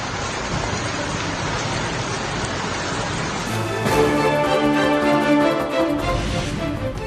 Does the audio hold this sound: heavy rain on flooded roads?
yes